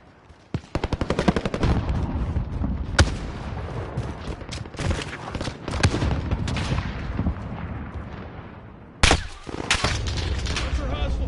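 Hostile gunfire in Call of Duty Warzone, sustained loud automatic bursts and rapid shots crackling almost nonstop, with a brief pause before another heavy burst resumes.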